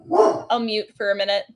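A household dog barks and yips in short bursts close by, mixed in with a person talking over it.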